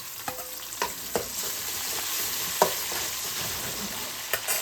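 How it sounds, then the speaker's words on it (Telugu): Onions and tomato fry in a pan with a steady sizzle, while a spoon stirs and scrapes in a few sharp knocks against the pan, close by and without talk. "ఉల్లిపాయలు కూడా వేగాక టమాటా కూడా వేసుకొని కాసేపు కూడా తిప్పుకోవాలి"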